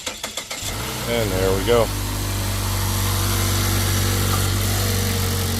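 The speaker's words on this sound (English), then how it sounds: "customer is going to try to start that" A Mazda 3 cranks in a few quick pulses after a jump start, catches, and settles into a steady, close idle hum while someone speaks briefly over it.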